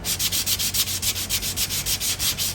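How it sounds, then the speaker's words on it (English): 120 grit sandpaper rubs back and forth along a wooden acoustic guitar top brace in a quick, even rhythm of about fourteen close raspy strokes, with no voices. "I'll sand it a little smoother. That was 120 grit."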